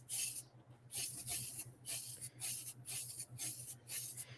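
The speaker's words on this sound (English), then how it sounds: "I'm just going to go to quickly spray this." Aerosol spray paint hissing onto a geocache container outdoors by a shop back door, several short close bursts in a regular on-off rhythm over a steady low hum.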